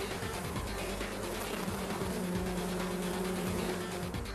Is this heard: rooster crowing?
no